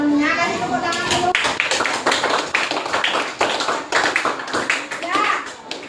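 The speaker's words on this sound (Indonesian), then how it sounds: "kasih tepuk tangan dulu." Elementary schoolchildren clap in a classroom for two classmates, a quick run of sharp, overlapping handclaps with a rhythmic pulse, mixed with children's chatter.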